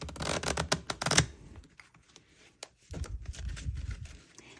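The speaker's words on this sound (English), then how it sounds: "I'm just going to give these a quick shuffle." A thick oracle deck of crystal-themed cards shuffled by hand, giving a close, dense burst of riffling and flicking, then quieter card scrapes and soft handling noises.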